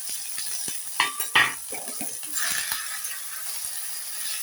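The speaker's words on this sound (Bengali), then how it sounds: "পেঁয়াজ কলিগুলো দিয়ে আমি একটু নেড়ে নেব" Onion scapes being stirred in a pan for a Puntius fish chachchari, with close metallic scrapes and clinks of a spatula against the pan over a faint sizzle, in irregular bursts and with no talking.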